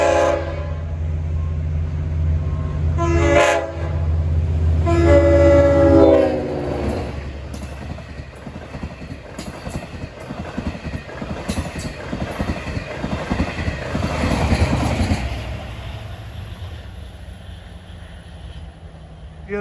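A train on the Montauk Branch sounds loud horn blasts, then passes close at track speed with a rolling rumble and rhythmic clickety-clack of wheels that builds and then trails off.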